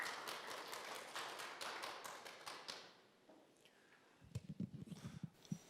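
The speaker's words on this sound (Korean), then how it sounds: "큰 박수로 맞이해 주시면 대단히 감사하겠습니다." A seminar audience at the World Korean Business Convention claps to welcome a congratulatory speaker. The clapping is fairly loud for about three seconds, then fades, and a few sparse taps and thuds follow.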